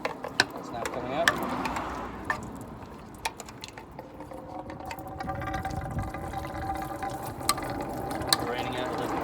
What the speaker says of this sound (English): there's more water behind the thermostat. That's now coming out.